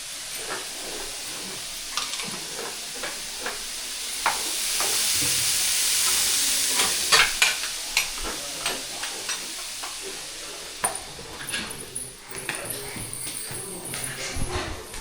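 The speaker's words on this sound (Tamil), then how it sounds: "பீட்ரூட் பொரியல் பண்ணிட்டு இருக்கு" Beetroot poriyal sizzles as it is stir-fried in a pan, with a steady hiss broken by sharp scraping and clattering stirs, while voices talk over it in a home kitchen.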